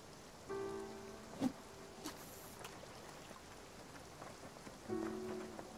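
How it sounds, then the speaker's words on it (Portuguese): Rain falls as the boat sails into a cloudy area in the game Spiritfarer, a faint, soft, steady patter with a few brief tonal game chimes over it, and no talking. "Por isso que começou a chover."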